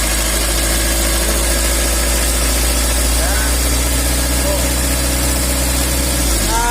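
A Mitsubishi L300 engine, running rough, hums loudly at a steady idle-like drone with a slight rise near the end, while someone talks over it.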